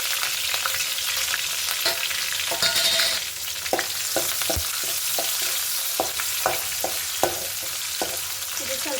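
Spice tempering sizzles in hot oil for ridge gourd sambar, a continuous loud frying hiss close by, punctuated by repeated sharp clicks of a spoon stirring against the pan.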